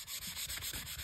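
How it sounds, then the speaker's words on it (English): Sandpaper rubs back and forth over a rusty True Temper Flint Edge axe head during restoration, about nine quick, even scraping strokes, close and fairly quiet, with no talking. "I'm pretty much done with the sanding part."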